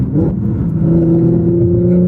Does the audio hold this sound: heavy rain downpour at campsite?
no